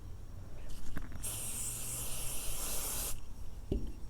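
Apple Guard protector sprays from an aerosol can onto a Louis Vuitton Vachetta leather bag outdoors, one steady hissing burst of about two seconds, close and fairly quiet, with a few small clicks around it.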